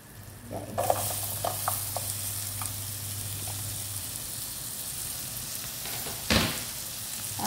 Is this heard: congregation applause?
no